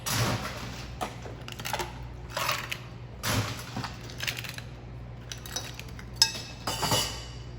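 A cocktail strained over ice into a footed Pilsner glass, with close, bright clinks and rattling ice in uneven bursts and short pauses between pours.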